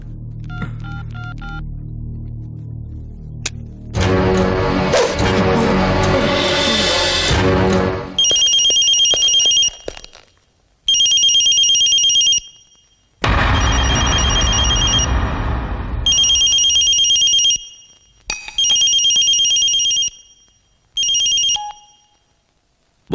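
A telephone rings in a Kannada-dubbed South Indian action film. A burst of dialing tones is followed by a loud, repeated electronic ringtone in regular bursts with short gaps, partly over dramatic background sound.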